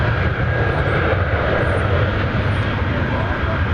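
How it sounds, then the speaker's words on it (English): An Airbus A320, American Flight 2266 bound for Omaha, lifting off from Dallas Fort Worth airport, its steady broadband engine roar holding loud and unbroken throughout. "You're listening to an Airbus A320 lifting off for Omaha, American Flight 2266."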